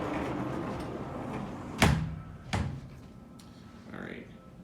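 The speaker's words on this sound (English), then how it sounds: "So we're going to go in and close the door." A hotel room door at the Cosmopolitan in Las Vegas bangs shut with a solid thunk, then gives a softer second knock, heard close over quiet room noise.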